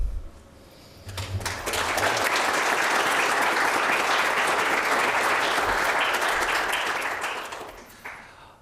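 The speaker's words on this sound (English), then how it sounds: "One more round of applause for Jody LaBuda, your new incoming president." A chamber of commerce audience at a board installation breaks into sustained applause for the incoming president, swelling quickly after a brief lull, holding steady and loud, then fading near the end.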